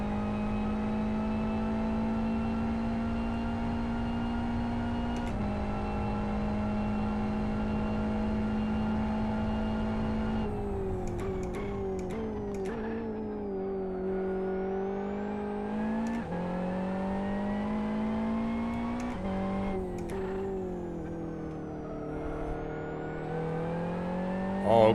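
Race car engine in the Live for Speed racing game, a steady loud harmonic drone that rises and dips with throttle and gear changes over a long continuous run, with no talk.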